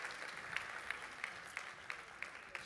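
Steady audience applause at a ChangeNOW 2023 energy-transition conference, dense clapping throughout with a few sharper claps standing out, moderately distant and even in level.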